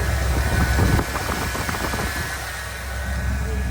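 A 1981 Ford F150 engine with a rebuilt intake manifold and carburetor idles close by, a steady, loud, rumbling drone with a slightly busier patch near the start.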